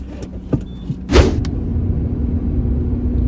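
Steady low rumble of a car on the move, heard from inside the cabin, with a short louder swish near the start, then an even drone to the end; no voices.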